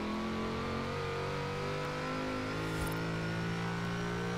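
Racing game car engine in Forza Horizon 4, supercharged or turbocharged, holding a steady high rev with a whining, rising tone and a faint high spooling note, continuous and fairly close.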